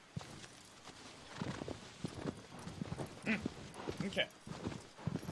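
Horse hooves clip-clop in the Shadow of the Colossus remake video game as the horse gets stuck against a tree, irregular steps running under a man's close, frequent talk.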